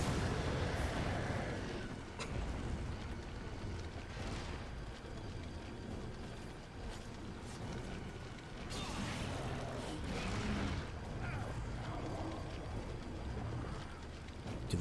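A grenade exploding in a Resident Evil survival horror game, with several booming bursts and rumbling blasts over a continuous noisy game background.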